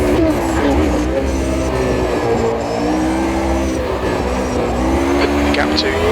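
A 1988 Formula 1 car losing its rear end in Automobilista 2, its high engine whine holding steady with slight tire scrub as it slides, loud and close beneath a voice talking.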